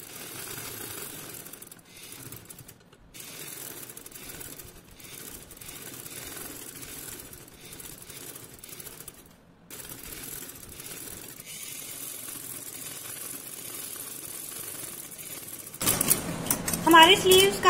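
A sewing machine runs steadily, stitching the double-folded hem of a bell sleeve, with a continuous mechanical whir and ticking that grows louder and busier near the end.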